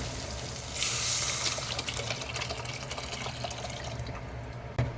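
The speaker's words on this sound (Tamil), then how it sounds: "நம்ம கரைச்சி வச்சிருக்கிற ரச தண்ணியும் சேர்த்துடலாங்க" Rasam tamarind water is poured into a pan, a steady splashing trickle lasting several seconds, ending with a soft clunk.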